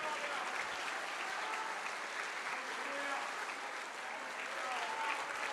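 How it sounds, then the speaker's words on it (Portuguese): A church congregation applauds in a steady, dense wash of clapping that holds evenly throughout, fairly distant and diffuse, with no clear voices standing out. "Vamos aplaudir, vamos aplaudir."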